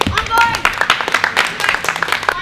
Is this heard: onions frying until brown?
no